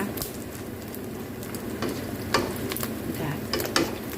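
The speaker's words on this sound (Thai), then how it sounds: "ปลาตัวเล็กนี่ต้องทอดให้มันกรอบนิดหนึ่ง" Small fish deep frying in oil, a bubbling sizzle with scattered sharp crackles and pops, fairly close and without speech.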